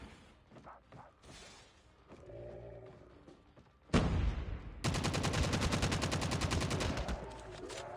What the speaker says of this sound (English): That's the ray gun.